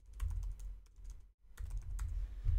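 Typing on a computer keyboard during an Angular coding demonstration: quick, close clicking keystrokes in two bursts separated by a brief pause, with no talking.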